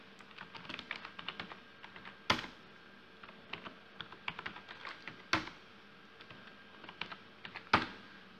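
Steady computer keyboard typing with dense clusters of key clicks, broken by a few louder, sharper strikes at roughly three-second intervals, close and clear with no talk over it.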